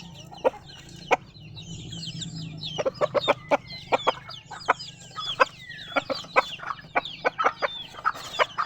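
Black Australorp chickens cluck in a yard, with short sharp calls repeating in irregular bursts close by, some clucks rising into higher squawks over a low steady background hum.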